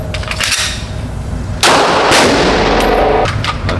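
A pistol fitted with a red dot sight fires at an outdoor shooting range, and one loud sharp report booms out above steady background wind and noise.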